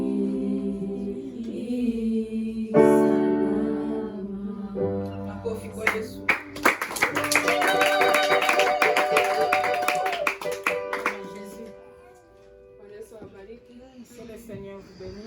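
A church congregation at a Sunday service claps for Jesus, rhythmic handclaps mixed with singing voices and musical tones that swell in the middle and fade toward the end, with voices running throughout.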